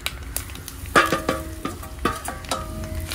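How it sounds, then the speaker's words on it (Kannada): Grated coconut frying in a pan with steady low sizzling, broken by several sharp scraping stirs of a spatula against the metal, close and fairly loud, with no voices. "ಇದು ಇನ್ನು ಫುಲ್ ಗೋಲ್ಡನ್ ಕಲರ್ಗೆ ಬರುವ ಥರ ಇದನ್ನು ಫ್ರೈ ಮಾಡುವಂಥದ್ದು"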